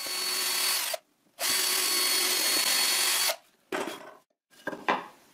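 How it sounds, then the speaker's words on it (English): A power drill bores guide holes into a wooden plank for a workbench leg vise, with two long steady whining runs followed by a few short bursts, close and clear with no talk. "I drill a couple of"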